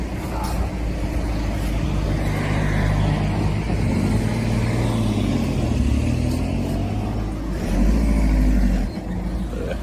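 A motor vehicle drives out through a gate in the UK. Its engine rumble is steady and fairly loud throughout, with a rise in the engine note near the end and no speech over it.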